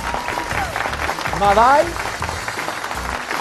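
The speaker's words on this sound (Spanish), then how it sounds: "Y ahora les voy a pedir un fuerte aplauso para nuestros concursantes" Studio audience applause for contestants on a Spanish-language television series, steady clapping underneath a voice announcing a name.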